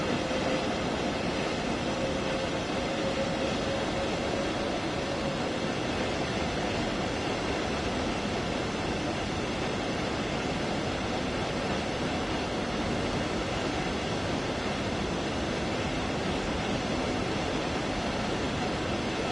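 In the Train Sim World 2 video game, a train runs at speed on the South Eastern High Speed line, where it changes from overhead power to third rail. It makes a constant, loud, broadband rumble and rush from the wheels and track that goes on unbroken, with no talking.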